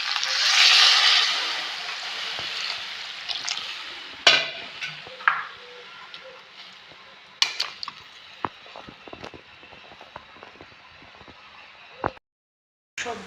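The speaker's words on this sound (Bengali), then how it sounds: "সবজিটা ভাজা হয়ে গেছে, এখন আমি সিদ্ধ হওয়ার জন্য জল দিই।" Potato and vegetable curry in a pan hisses and sizzles as water is poured in, a loud burst at first that fades to soft bubbling, broken by a few clinks and scrapes of a spoon against the pan.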